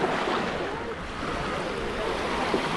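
Ocean surf at a secret beach on Oahu, Hawaii, a steady broadband wash of waves with some wind noise on the microphone, continuous and fairly loud throughout with no talking.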